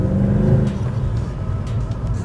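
Steady low engine drone from a 457-horsepower car, loud and close, holding a heavy rumble with a slight fall in pitch partway through, no talk over it.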